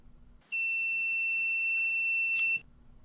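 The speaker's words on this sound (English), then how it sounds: "If the power meter beeps, I will know that I'm clamped onto a fiber that has a 2 kHz tone on it." An ODM LFI 110 power meter gives a single steady, high-pitched electronic beep, held for about two seconds on detecting a 2 kHz tone on a clamped fiber, clear and close in an otherwise quiet room.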